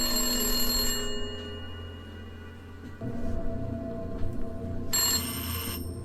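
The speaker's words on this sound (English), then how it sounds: "All the phones got different ring sounds too." Several old telephones ring inside an abandoned house, each with a different ring; sustained bell tones overlap, drop away briefly, then another phone's ringing starts and stops again.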